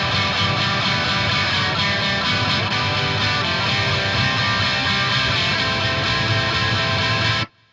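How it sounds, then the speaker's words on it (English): Heavily distorted rhythm guitar strums chords, a dense, loud, continuous wall of sound with steady attacks that cuts off abruptly at the end. "the rhythm guitar is just strumming some chords, and those chords sound like this."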